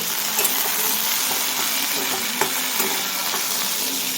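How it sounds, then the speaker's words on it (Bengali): Okra frying in a pan in a Bengali home kitchen makes a steady, close sizzle throughout, with a few soft clicks of stirring over the hiss. "এখন একটু ভিন্ডি ভাজছি"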